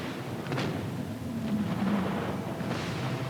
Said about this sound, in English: And that explosion happens.